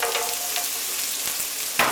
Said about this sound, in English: We want to throw in our onion